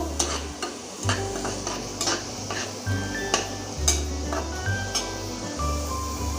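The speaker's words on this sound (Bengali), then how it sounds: "এখানে রসুনটা ভেজে নিচ্ছি লাল করে একটু ভেজে নেবো" Chopped garlic fries in a pan for aloo chop, with a steady close sizzle broken by repeated scraping stirs and light clinks of a utensil against the metal pan.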